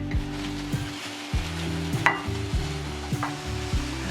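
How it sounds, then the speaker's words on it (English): Doubled-up sausages for Basque chicken sizzle loudly in a pan, a dense crackling fry close up, with a low steady hum and a few scattered clinks of utensils against the pan. "in goes the sausage"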